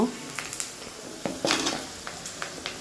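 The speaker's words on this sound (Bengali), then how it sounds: "পেঁয়াজ আর পেঁয়াজের কলি দিয়ে দিয়েছি তেলের মধ্যে এখন এর মধ্যে আমি আলুটাও ভেজে নিব" Potatoes frying in hot oil with onions and spring onions, a steady low sizzle broken by scattered clinks and scrapes of a utensil against the pot, close and fairly quiet.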